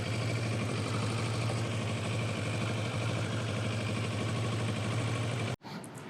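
A steady Kawasaki Versys 650 engine idles close by with a rattling, buzzing vibration from loose fairing panels, then cuts off abruptly near the end.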